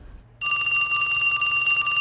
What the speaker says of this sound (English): Okay, which phone's ringing?